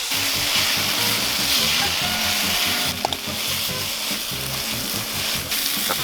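Vegetables and green onion stir-frying over high heat in a pan at a riverside car-camping site, a loud, continuous sizzle with scraping stirs throughout and a few sharper knocks.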